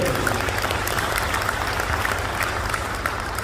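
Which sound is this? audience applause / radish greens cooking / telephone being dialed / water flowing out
audience applause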